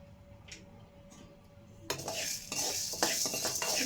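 Chana dal, cumin and fenugreek seeds are stirred and dry-roasted in a pan: faint scraping at first, then a dense rattle of hard lentils and seeds scraped around by a spoon, rising in loudness.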